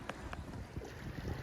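Wind gusts rush past a Catalina 30 sailboat under way on Lake Pend Oreille, a soft blustery hiss with low thumps of water and hull, fairly faint and without voices.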